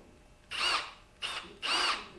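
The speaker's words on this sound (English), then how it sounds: "So this is one of my drill motors that I purchased a while ago." A brushless cordless drill motor whirs up in three short, close bursts, two longer and one brief, each spinning up and cutting off with quiet pauses between.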